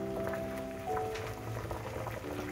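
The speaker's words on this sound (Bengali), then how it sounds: "ডিম সেদ্ধ করতে দিয়েছি" Eggs boil in a pot of water on a home stove, giving a continuous close bubbling and rolling simmer, with faint tonal hums from the kitchen behind it and no one talking.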